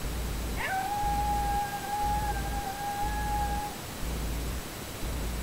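A single long, steady howl held for about three seconds, rising at the start, then fading into background noise; a voice imitating a coyote.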